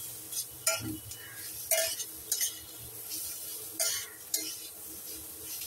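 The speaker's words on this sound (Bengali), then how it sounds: "ভালো করে কষাতে হবে, ভালো করে ভাজতে হবে এগুলো" A turmeric and coriander spice mix fries in a pan while a spoon stirs it, leaving soft sizzling under a string of distinct metallic scrapes and clinks, fairly quiet and close.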